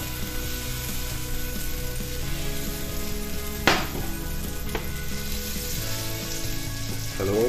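Butter sizzling and melting in a hot pan before batter is fried, a steady close frying hiss with a sharp utensil clack near the middle, a fainter knock after it and a scrape at the end.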